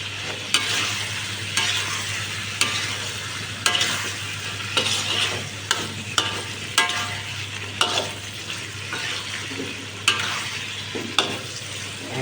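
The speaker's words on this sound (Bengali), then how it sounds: "দেখি আমার তরকারি কষানো কী অবস্থা হয়েছে, কষানো হয়েছে কিনা।" Curry sautéing in a pan gives a soft constant sizzle, punctuated by regular sharp scrapes of a spoon stirring every second or so, close up with no talk.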